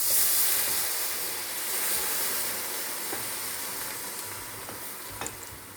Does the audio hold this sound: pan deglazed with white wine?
yes